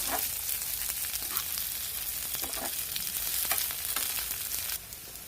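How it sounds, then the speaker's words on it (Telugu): Deep-fried corn tossed back into a hot pan for crispy corn, giving a steady dense sizzle and crackle close up with occasional stirring scrapes, continuous throughout with no voices. "ఇంకొక 2 మినిట్స్ ఇలా ఫ్రై చేసి ఆపేద్దాం స్టవ్"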